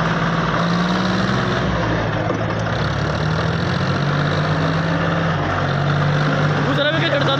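A John Deere 5038 and a New Holland 3630 tractor strain against each other in a tug-of-war, their diesel engines droning loudly and steadily throughout, with voices talking over the noise.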